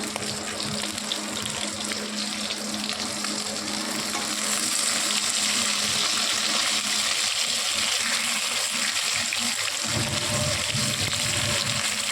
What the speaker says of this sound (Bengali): ছোট মাছগুলো ভাজা হয়ে গেছে আর বড় মাছগুলো ভাজা বসিয়ে দিয়েছি